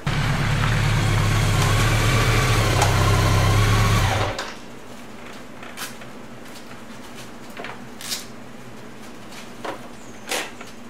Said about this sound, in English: All you can hear is the brakes hitting the caliper.